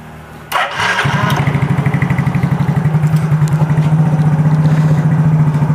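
A Yamaha Mio Soul GT scooter engine, stalling with a fault, cranks and catches after a short click, then settles into a loud, close, steady pulsing idle that runs to the end with no talk.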